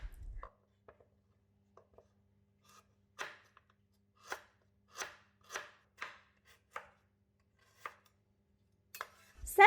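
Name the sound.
knife chopping lemongrass and galangal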